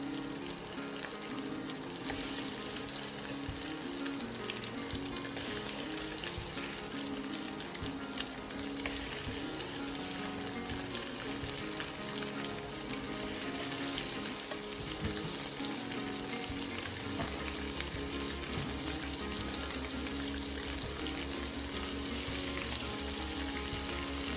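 Tofu fries in a pan, a dense continuous sizzle and crackle of hot oil that holds steady throughout, close and alone, with a low hum joining near the end.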